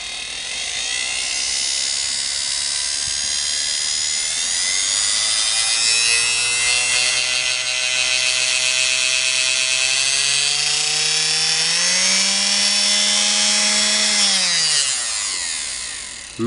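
The RF5-8 motor on a Singer Model 99K sewing machine runs steadily, a close, loud electric whine with a humming drone that rises and then winds down near the end.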